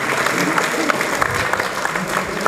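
A reunion hall fills with steady, dense clapping as people stand to applaud the organizing committee at a school alumni get-together, continuous and fairly close throughout.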